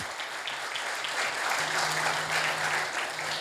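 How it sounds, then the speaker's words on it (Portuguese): A church congregation claps loudly and steadily throughout, with soft sustained low notes underneath. "Aplaude a Ele. Bem forte, bem bonito."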